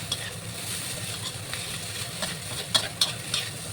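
Noodles stir-fried dry in a pan with very little oil, giving a soft continuous sizzle with scattered scraping and clinking of the spatula, quiet and close, with a few sharper taps near the end.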